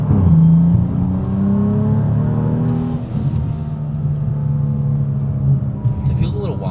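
A BMW engine rumbles steadily while the car is driven, its low drone rising and falling slightly with tyre and road noise, and people talk over it.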